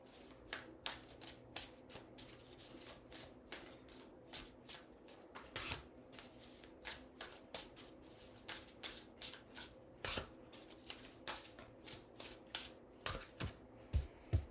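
Tarot cards are shuffled and laid out by hand in a quiet room, a long run of rapid riffling bursts and soft slaps repeating in a steady rhythm, close and fairly faint.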